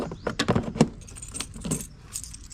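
Keys for a 1983 BMW R100RT motorcycle jangle close up, a quick cluster of bright metallic clinks then lighter rattling, with no talking.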